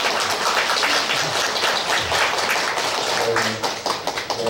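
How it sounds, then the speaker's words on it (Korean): Hands clap in a church gathering, with a burst of applause from a group filling the room, loud and dense before thinning into scattered claps at the end, with voices mixed in. "박수 한번."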